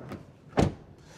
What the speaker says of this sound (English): Door closing sounds.